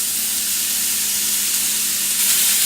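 Chicken and onion frying in a pan, a loud steady close sizzle with broadband hiss that swells slightly near the end, no voices.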